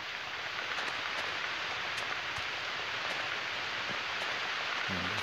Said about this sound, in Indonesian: Ini sudah pagi, namun cuacanya masih hujan dan masih agak gelap ya guys